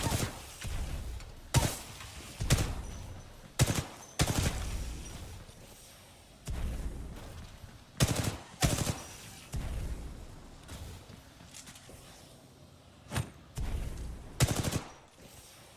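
Spitfire machine gun firing in Titanfall 2, loud repeated bursts of automatic fire separated by short pauses, with the bursts coming at uneven intervals over about fifteen seconds.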